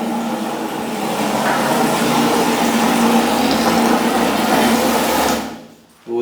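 Water gushes steadily from an opened tap, a loud close rushing that keeps up for several seconds before cutting off near the end.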